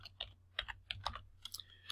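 Quiet, close typing on a computer keyboard while entering an account name in an accounting spreadsheet, a short burst of soft, irregular key clicks.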